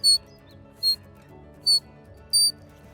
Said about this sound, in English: if they blow into the leaves of the Dianella here, the sound that it creates makes a really nice whistle